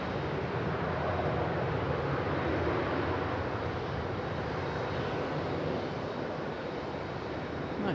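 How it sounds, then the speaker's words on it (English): An American Airlines Boeing 737 touches down at Raleigh-Durham International, a steady broadband roar of engine and rushing air holding loud and unbroken throughout, with no voices. "Nice touchdown though for that 737 from American Airlines."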